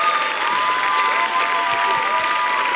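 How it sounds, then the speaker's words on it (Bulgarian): Steady applause from a large audience, dense and continuous clapping filling the whole moment. "Аплодисменти за балет Магаданс."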